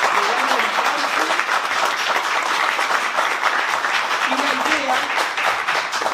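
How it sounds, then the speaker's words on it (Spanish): Audience applause for presenters at a Spanish-language talk about Carlos Droguet, a steady wash of clapping lasting several seconds with faint voices and tonal sounds under it. "Le damos un aplauso"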